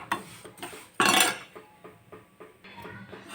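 Bombay rava and semiya roast in a pan for instant semiya idli, heard as a string of close clinks and scrapes from a spoon against the metal pan, with one louder rattling stir, no voices.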